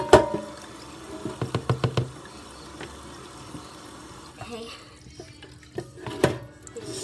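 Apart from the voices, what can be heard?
water running while rinsing grease off a skillet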